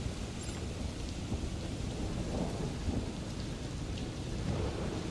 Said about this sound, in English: Thunder makes this area feel so good.